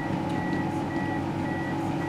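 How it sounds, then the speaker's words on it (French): A steady electronic beep repeats at an even pace over a loud low rumble of machinery. "Écoute le bip."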